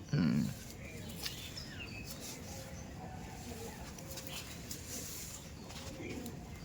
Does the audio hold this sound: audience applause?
no